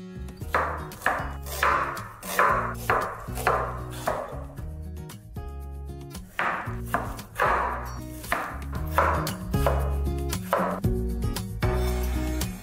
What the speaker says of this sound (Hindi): मैं क्या करूँगी अपनी ग्रेवी के लिए प्याज, टमाटर ये सब कटिंग चॉपिंग करके प्रिपेयर कर लूँगी